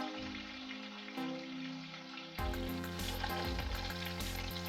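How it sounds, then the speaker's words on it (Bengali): Katla fish frying in hot oil, a steady crackling sizzle that swells louder partway through, with occasional spatters and no one talking. "মাছগুলো আমাদের মোটামুটি ভাজা হয়ে গেছে।"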